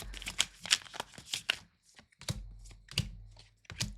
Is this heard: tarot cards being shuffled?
yes